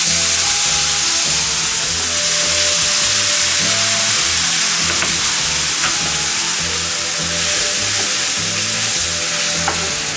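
A gumbo roux with the trinity of onion, celery and bell pepper just added sizzles hard in the pot, a dense steady hiss with scattered pops and crackles, loud and continuous without any talk.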